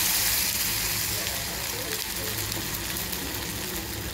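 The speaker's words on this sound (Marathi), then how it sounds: "आणि हे बॅटर आता मी ह्याच्यामध्ये घालणार आहे. हे बघा, हे असं घालायचं आहे, हळूहळू घालायचं." Appe batter lowered slowly into hot oil in an appe pan for a fasting snack, giving a steady hiss and soft crackle that holds evenly throughout at moderate loudness.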